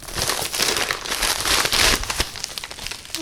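Crinkly wrapping of a mail package tears and rustles as it is cut open, a dense run of close, continuous crumpling and crackling over about three seconds.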